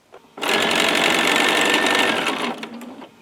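A sewing machine stitches around a fabric needle book, one loud close burst of rapid mechanical whirring lasting about two seconds before stopping.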